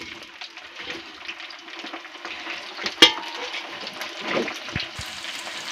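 Chicken 65 pieces fry in hot oil with a steady, close sizzle and bubbling, broken by a brief clatter of stirring partway through.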